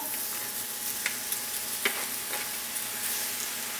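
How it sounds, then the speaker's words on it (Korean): Mushrooms stir-frying in plenty of oil give a steady, dense sizzle with a few brief crackles and pops, fairly close and with no one speaking. "자, 맛있게 볶아볼까요? 기름 넉넉하게 둘러주고 버섯부터"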